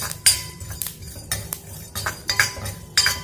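A metal spoon scrapes and clinks against a pan in short repeated strokes, stirring dry sesame seeds that rustle as they roast.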